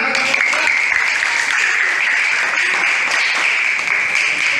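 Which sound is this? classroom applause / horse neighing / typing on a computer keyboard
classroom applause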